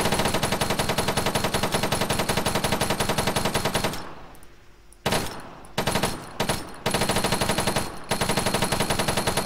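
Automatic rifle fire in the military shooter Arma 3, long rapid bursts of loud, evenly spaced shots broken by a pause and a few short volleys before sustained firing resumes.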